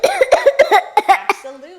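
A child's rapid run of harsh coughs, about eight in quick succession, close and fairly loud, trailing off into a short voiced breath.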